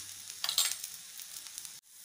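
Adai, a grain-and-rice flatbread, sizzles faintly in oil on a pan, with a soft steady crackle and a few brighter pops, no talking, ending in a sudden cut.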